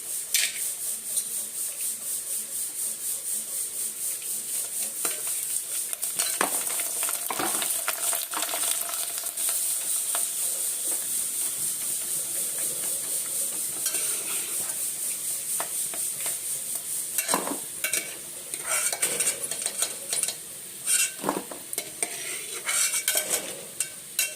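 Onions sizzle and crackle steadily in hot oil, with repeated scraping and stirring of a utensil against the pan.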